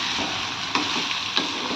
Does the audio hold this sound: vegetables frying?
yes